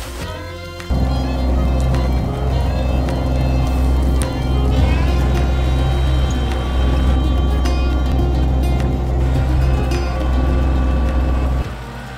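Tractor engine running steadily while scraping snow in a forest during a rain and snow mix, a loud continuous low rumble with a constant hum that holds throughout at close range.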